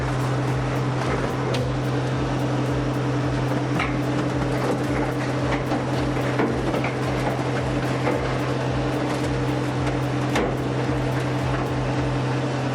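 A hydraulic scrap baler with rotary lid blades runs with a loud, steady mechanical drone and strong low hum, overlaid by continuous grinding and scattered clanks and knocks throughout.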